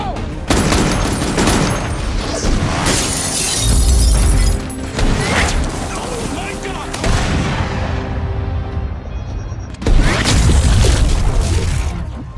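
Gunfire in a sniper shootout from an action film, with dense bursts of shots, crashes and booming impacts running almost continuously at close range, a brief lull before another loud volley near the end.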